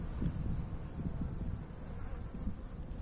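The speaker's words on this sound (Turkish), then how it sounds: "Şuraya bir tane arı girdi de" A steady low honeybee buzz hums close by, with a faint higher whine on top, continuous and fairly quiet throughout, from a beehive in January.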